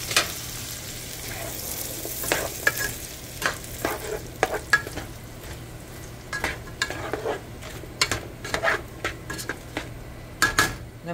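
A whole onion sautés in a hot pan, a steady low sizzle under repeated scraping and stirring clatter from a utensil against the pan, with sharper knocks scattered throughout; no talking.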